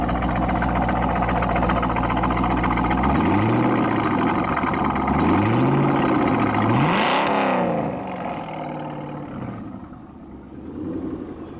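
A 1998 Chevrolet Corvette Indy 500 Pace Car V8 idles loudly, then revs up three times in rising swells before settling back to a rumbling idle.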